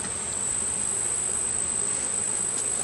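Bees humming around an open hive during an inspection, a steady high buzz with a thin constant tone, close and continuous, with no voices.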